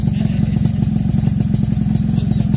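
A Suzuki Tornado motorcycle with a stainless racing exhaust idles with a loud, rapid, lumpy exhaust burble, steady and close.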